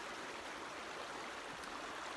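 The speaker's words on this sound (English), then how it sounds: "the creek rolls on" Creek water near Andrews Geyser flows downstream in a steady, faint rushing hiss with no breaks.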